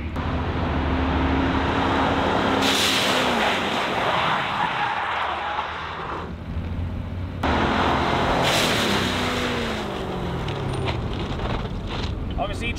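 A 2020 Corvette braking hard with ABS on a track, with loud rushing car noise and wind buffeting, two sharp swells of tire and brake noise about six seconds apart, and a voice speaking over it.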